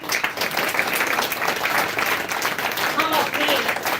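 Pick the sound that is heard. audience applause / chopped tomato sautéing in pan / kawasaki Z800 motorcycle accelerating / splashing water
audience applause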